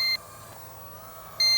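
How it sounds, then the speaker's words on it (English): A handheld remote controller for a cheap V66 drone, a DJI Neo knockoff, emits a low-voltage warning: two short, loud, steady electronic beeps, one at the start and one near the end, separated by quieter hum. "Now we're getting a low voltage beep, and that is coming from the controller."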